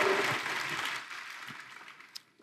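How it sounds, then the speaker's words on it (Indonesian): Church congregation clapping for the worship leaders, musicians and choir, a dense burst of applause that starts strong and gradually thins and fades over a couple of seconds, with no talk. "Boleh tepuk tangannya di-extend buat para worship leaders,"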